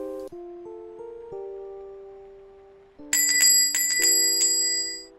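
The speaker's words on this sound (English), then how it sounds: "shopkeeper's bell ringing feverishly" A shopkeeper's door bell ringing: a few clear chiming tones that fade, then a loud, rapid burst of bright, jangling rings.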